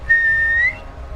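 A thin, steady whistle that rises slightly in pitch and lasts about half a second, like a whistling arrow shot skyward in a fantasy tabletop game, alone against a faint low hum.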